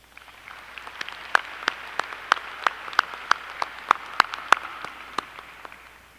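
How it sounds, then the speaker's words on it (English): An audience at a Murray State University undergraduate commencement ceremony in May 2021 claps for a group of honorees, with sharp individual claps standing out from a thin, scattered patter that continues for about six seconds. "Please join me in giving these individuals a round of applause"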